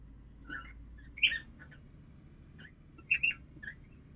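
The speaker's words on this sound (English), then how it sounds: "I apologise for the birds shouting again." Pet birds shout in short bursts of shrill squawks and whistling chirps, a few calls scattered over a quiet low hum, fairly faint and in the background.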